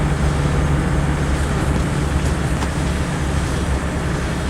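A Land Rover 90 fitted with a Nissan 2.8 turbodiesel engine pulls steadily in fifth gear at about 30 mph, a constant low drone with road and cabin noise and no speech.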